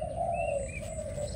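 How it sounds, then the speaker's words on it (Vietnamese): A Malaysian Đồng Son spotted dove cooing: a sustained, steady tonal coo held close and clear for just over a second against a faint background hum. "con chim này nó có nước đá lộn với nước gù rất là tốt nha anh em"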